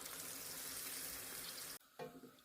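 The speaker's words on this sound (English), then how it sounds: "Then I pour in about 700 milliliters of water." Water is poured into a pot of browned diced beef for stew, a steady hissing, splashing rush that cuts off abruptly, followed by faint bubbling and settling sounds, close and quiet.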